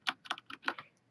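Quick bursts of typing on a computer keyboard while writing a Roblox script, about six close, crisp key clicks in an uneven rhythm within a second, alone without talk.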